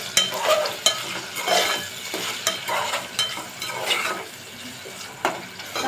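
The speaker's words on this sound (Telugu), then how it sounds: "టమాటా ముక్కలు మగ్గుతున్నాయి." Tomato pieces softening in a pan with a little coriander, a dense close sizzle and bubbling with frequent spatula scrapes and stirs, loud and continuous with no voices.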